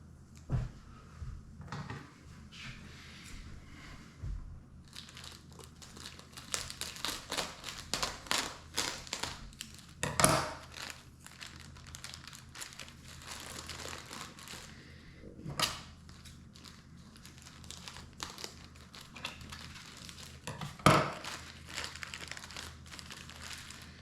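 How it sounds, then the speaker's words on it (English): A plastic bag being pulled off a turntable tonearm (Michell Gyrodec with Technoarm), giving long stretches of soft crinkling and rustling, with a few sharper taps and knocks scattered throughout, close but quiet. "I'll take this plastic bag off."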